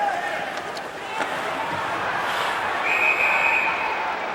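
A referee's whistle blows at a 2000 ECHL ice hockey game between the Trenton Titans and Roanoke Express at Sovereign Bank Arena, a steady high tone rising over arena crowd noise and a commentator's voice.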